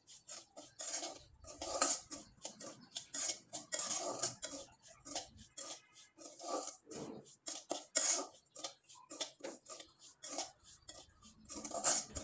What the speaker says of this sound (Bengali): এখন খুব ভালোভাবে নেড়েচেড়ে সুজিটাকে একটু ভেজে নিতে হবে